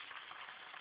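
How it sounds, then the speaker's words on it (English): Flounder fillet frying in a hot pan, a steady broadband sizzle and crackle, close and fairly quiet, with no voices over it. "You can hear it sizzling."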